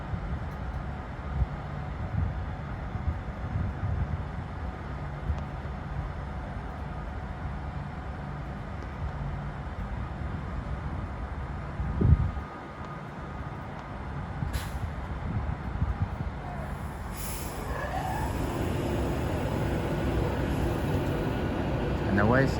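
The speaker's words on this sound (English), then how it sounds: "Soon to depart now will be the 10:55 Avanti West Coast service to London Euston." An Avanti West Coast train bound for London Euston pulls out of Milton Keynes Central, with a low rumble and air hiss building toward a rising electric whine as it gets underway; faint voices sit in the background.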